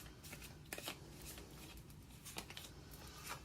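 Tarot cards are shuffled by hand in soft, quiet bursts of riffling and flicking, with a few sharper snaps as cards are drawn.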